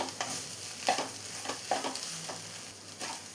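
Beetroot and egg thoran with curry leaves being stirred in a pan, soft rhythmic spatula scrapes repeating about every second over a low, continuous dry sizzle.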